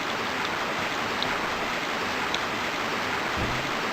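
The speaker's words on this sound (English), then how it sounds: "I hate how loud the rain is." Rain from the video game Crash Bandicoot 2 hisses as a loud, steady wash of noise. It stays constant throughout, with no speech.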